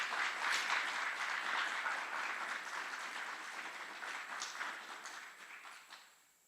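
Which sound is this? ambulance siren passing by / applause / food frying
applause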